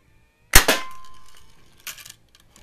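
A Heilprin Columbian model E BB gun fires once with a sharp, loud, close crack and a short metallic ring, followed a second later by a softer mechanical clack, with no voices.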